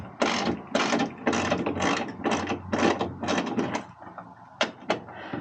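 A 10 mm socket ratchet loosens a headlight bolt on a Kia Sedona, giving about nine rhythmic bursts of close, sharp clicking followed by two brief isolated clicks, with no talk.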